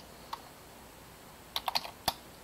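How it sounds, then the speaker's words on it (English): Sparse computer keyboard typing: a single key click, then a quick burst of four or five taps and one last louder tap, close by and isolated against a quiet room. "let me type it up"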